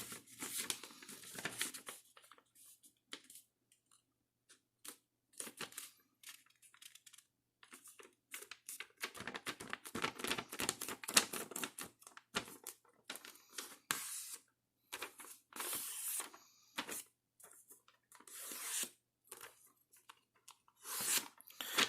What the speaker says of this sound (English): we're going to fold this edge onto this edge